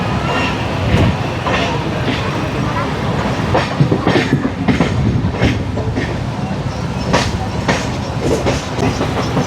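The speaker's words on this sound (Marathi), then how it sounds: "माझी पहिलीच वेळ आहे की मी सेंट्रल लाईनची लोकल एवढ्या फास्टमध्ये धावताना बघतोय" A Mumbai Central line local train runs fast, with a loud, steady rumble and rapid, irregular clicks and clatters of the wheels over the track throughout.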